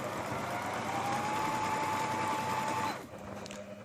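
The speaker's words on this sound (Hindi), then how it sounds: "और ये भी सिंपल सिलाई है पिको करने के लिए।" Singer Minx sewing machine running steadily as it stitches small picot edging, a continuous close mechanical whir with a tonal hum that stops abruptly near the end.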